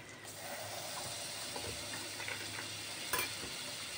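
Butter sizzles and hisses steadily in a pan with browned flour, a continuous frying crackle with faint scrapes of stirring and one sharper click near the end.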